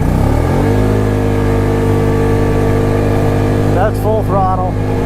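An ATV engine at full throttle on a road during a top-speed run, a loud, steady, unbroken drone held close throughout, with a voice speaking briefly near the end.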